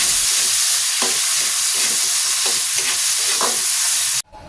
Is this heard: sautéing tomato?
yes